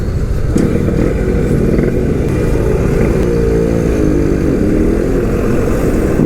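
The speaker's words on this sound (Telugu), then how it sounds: "బండి సౌండ్ చూడండి ఎట్లుందో" A Suzuki Max 100 motorcycle engine runs steadily and loudly in city traffic, with a continuous close drone and a brief rising rev in the middle, no talking.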